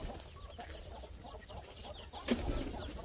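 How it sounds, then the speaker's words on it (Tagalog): Soft hen clucking mixed with a busy farmyard bird chorus, fairly steady throughout, with one sharper louder call near the end. "Ang manok."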